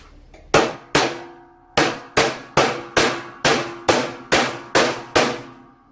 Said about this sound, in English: Hammer it, hammer it.